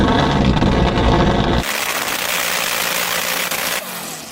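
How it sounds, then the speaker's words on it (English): A Porsche 918 Spyder hypercar's engine, loud and close, holds a dense roar, then drops abruptly to a lighter, steadier note before cutting lower again near the end, with no talk over it. "So I'm going to rev up my Porsche"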